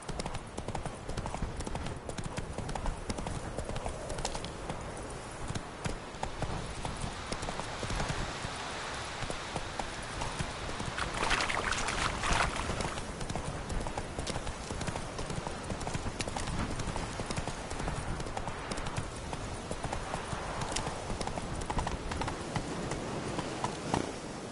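In a Witcher video game, the horse Roach gallops steadily, with rapid close hoofbeats running continuously and evenly throughout.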